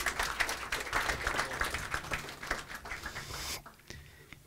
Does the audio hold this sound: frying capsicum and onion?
no